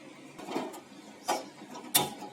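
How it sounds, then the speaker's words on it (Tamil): A gas stove igniter clicking as a burner is lit for cooking chicken biryani: three sharp clicks with faint mechanical rattling in between, close and alone. "கேஸ் பற்ற வச்சுக்கிறோம்."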